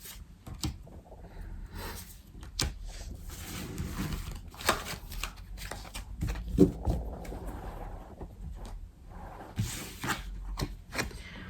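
Persian tarot cards are shuffled by hand, a series of soft irregular riffles, slaps and rustles, close and fairly quiet.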